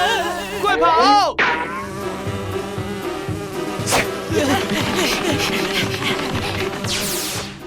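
A cartoon swarm of bees buzzes continuously, a dense insect drone with sweeping whooshes and swelling passes over background music.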